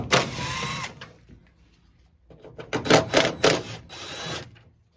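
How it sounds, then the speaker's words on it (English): A driver with a T30 Torx bit backs out two tailgate bolts on a 2008 Toyota Tundra, giving short whirring bursts, one near the start and several clustered later, with quiet pauses between. "Remove these two bolts using a T30 Torx bit."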